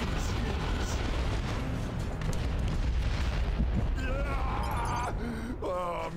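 A large explosion booms in the strategy game Warhammer 40K: Dawn of War 2 Retribution, a dense sustained roar of blasts and rumble with a voice briefly heard over it near the end.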